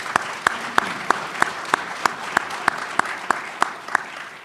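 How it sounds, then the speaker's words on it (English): At a maritime industry conference session, an audience claps for a panel with a slow, regular rhythm of distinct, evenly spaced claps over a soft background of scattered hand noise. "please give a round of applause for our panel here today"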